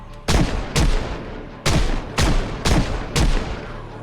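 Six sharp gunshots ring out in the Project Zomboid video game, loud and evenly spaced a little under a second apart, each with a quick decaying tail, with no talk over them.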